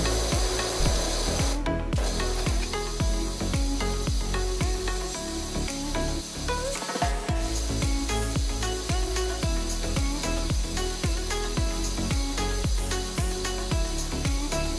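A pressure washer sprays continuously in PowerWash Simulator while a garden is cleaned. The hiss is steady and loud, with dense rhythmic texture throughout and a brief cutout near the start.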